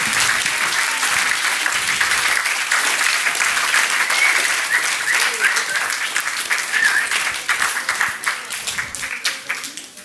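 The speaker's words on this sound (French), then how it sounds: "Vous pouvez les applaudir." Sustained audience applause at a French conference or talk session, dense and steady for most of the stretch, then thinning into scattered claps near the end.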